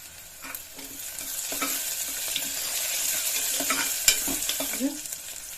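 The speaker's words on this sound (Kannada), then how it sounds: "ಕರಿಬೇವಿನ ಸೊಪ್ಪನ್ನು ಹಾಕೊಂಡ್ಬಿಡಿ" Curry leaves and garlic sizzle in hot oil with a continuous near crackle, joined by scattered stirring clinks and scrapes against the pan, with no talk.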